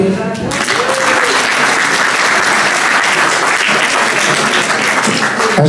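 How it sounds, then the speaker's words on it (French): An audience at a talk on fighting antisemitism breaks into loud, sustained applause, a close, continuous roar of clapping following a brief moment of speech at the start. "On pourrait l'applaudir"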